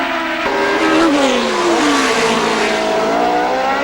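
Formula 1 race cars of the 1970 British Grand Prix, including Graham Hill closing on Peterson's March, scream past with loud high-pitched engine notes that rise and bend as they pass, filling the whole stretch with no talk.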